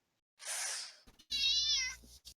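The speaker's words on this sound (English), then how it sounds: "oh, kitty, that's a kitty" A house cat gives a breathy hiss-like cry followed by a clear, drawn-out meow, two close calls separated by brief clicks, with a short chirp at the end and no talking.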